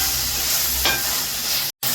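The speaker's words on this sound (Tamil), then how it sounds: "ஓகே, வதக்கி எடுத்துக்கோங்க. இந்த மாதிரி நல்லா வதக்கிக்கோங்க." Onions or aromatics being sautéed in a pan for mutton curry, giving a steady, loud sizzle and fry with a brief stirring scrape, and a short break in the sound near the end.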